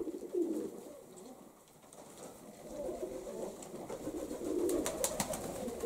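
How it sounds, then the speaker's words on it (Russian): Male pigeon cooing repeatedly as he drives a female toward the nest, soft rolling coos recurring at close range over a low outdoor background with faint rustling. "Это он гонит голубку, гонит на гнездо. Это голубь самец, самочка повыше сидит"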